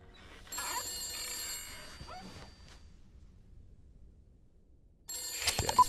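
A telephone bell rings in a house in The Beast Inside in two bursts: a sustained ring near the start, then a pause, then another ring near the end. Faint rustles and a breathy sound fall between the rings.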